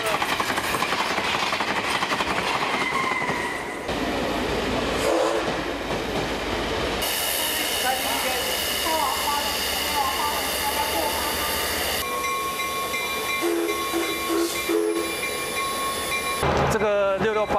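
Steam locomotive 668, serviced in Changhua, Taiwan, runs on rails with a loud, close, continuous rumble, hissing and rhythmic mechanical clatter that shifts in character over time.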